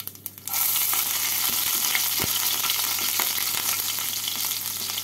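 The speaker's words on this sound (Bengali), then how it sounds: "তেলটাকে গরম করে নিয়ে এর মধ্যে দিয়ে দেবো ফোড়ন। ফোড়নে দিচ্ছি 1 টিস্পুন কালো জিরে আর কুচনো কাঁচা লঙ্কা।" Black cumin seeds and chopped green chillies hit hot mustard oil and burst into a loud, steady sizzle after a few quiet clinks. The crackling frying carries on close and unbroken, with no talk.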